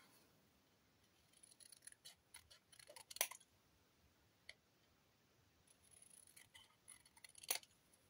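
Scissors snip through paper for a moodboard in a series of quiet, sharp cuts, a few louder clicks standing out among softer scattered snips, close by and with no talking.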